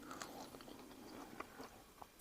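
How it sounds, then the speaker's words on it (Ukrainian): Quiet, close crunching and chewing of a firm, crunchy Bily Klyk berry, with small irregular crisp bites over a faint background hiss. "Вона прям тверда, хрумка. Ягідку одну з'їв."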